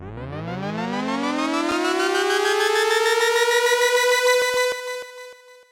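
A synth sweep built in Pro Tools rises smoothly from a low rumble to a bright sustained tone, holding loud and dense before it fades out near the end, with no talk.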